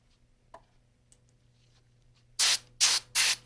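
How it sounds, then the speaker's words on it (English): Compressed air blowing out a threaded bolt hole in an aluminum engine block, three sharp loud hissing blasts in quick succession after a few faint clicks. "Blow out the hole with air."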